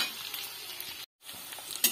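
Chopped onions and green chilies sizzling softly in a pan for dry potato and spinach sabzi, a steady faint crackle with a brief gap and a light clink near the end.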